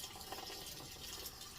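Tap water running steadily into a bowl of food being soaked for canning, a continuous close splashing wash of filling liquid with no talk.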